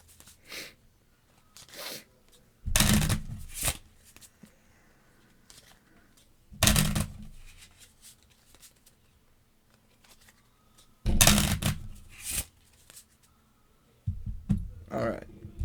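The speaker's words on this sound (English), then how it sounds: "we shuffle this and deal ourselves an encounter card." A deck of Marvel Champions playing cards being shuffled on a table, with several short, bright riffling bursts separated by quieter handling noises.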